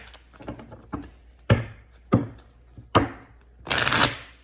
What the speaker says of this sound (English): These cards don't want to shuffle no more.